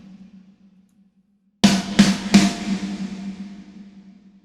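Snare drum processed through Cubase Revelation algorithmic reverb: a steady low hum runs alone at first, then three sharp, loud snare hits arrive in quick succession, each trailing into a long, washy reverb tail.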